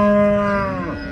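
A Punganur cow lowing at a cattle market, one loud, close, drawn-out moo with a rich harmonic tone that slides down and fades at the end.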